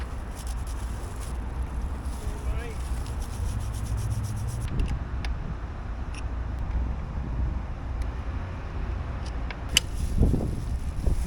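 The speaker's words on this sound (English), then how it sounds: "I'm gonna give the chain a good clean, then I'll lube it up again" Scrubbing and rubbing on the drive chain of a Yamaha Tenere 700 motorcycle during cleaning, a steady close-up brushing texture with light scraping and occasional knocks throughout.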